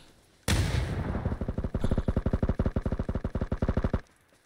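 A dropped frag grenade in a video game bursts with a sudden loud blast, followed by a long run of rapid rhythmic booming pulses that cut off abruptly, with no talking.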